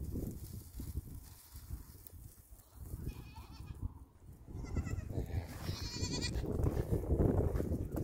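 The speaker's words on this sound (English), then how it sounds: "They're not the most friendly goats." Goats bleat several times over a rustling outdoor background, the calls rising and clustering toward the end, fairly close by.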